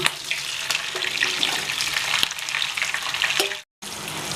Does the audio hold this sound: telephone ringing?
no